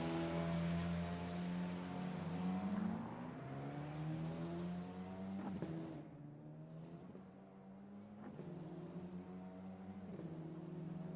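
A Formula 4 race car climbs a hill section at Melbourne in Assetto Corsa, its engine whining up through the revs and dropping sharply at each gear change, heard fairly faintly and alone.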